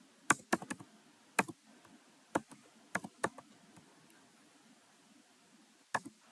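JavaScript code is typed on a computer keyboard in a quiet room, with sparse, irregular keystrokes: short clusters of crisp clicks separated by pauses.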